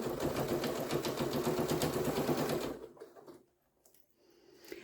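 Sewing machine stitching fabric for a scrappy Easter basket at a stitch length of 3.0, a fast steady rattling run for under three seconds, then stopping into near quiet.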